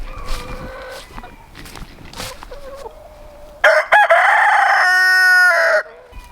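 Hens cluck and murmur close by on a farm with pigs nearby, then a rooster lets out a loud, drawn-out crow that dominates the second half.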